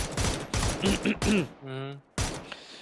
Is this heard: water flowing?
no